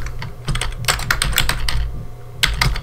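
Close-up computer keyboard typing while JavaScript code is entered, with quick runs of crisp keystrokes over a low steady hum and a short pause before a final flurry.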